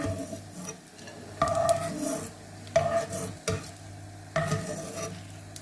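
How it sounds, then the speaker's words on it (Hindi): Edible gum (gond) roasting in a kadhai for poppy seed laddus, with repeated spoon scrapes and stirring strikes over a soft sizzle, close up and with no talking. "इस तरह से सारा गोंद हम भून लेंगे और इसको निकाल लेंगे।"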